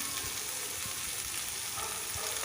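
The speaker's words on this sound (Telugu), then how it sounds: "బాగా వేయించుకొని చూడండి ఇలా వేగాలి ఇంకా బాగా వేగాలి" Soya mixture with coriander powder, turmeric, salt, chilli powder and green chillies frying in a pan, giving a steady, even hiss of sizzling oil with faint stirring, close and continuous with no talk.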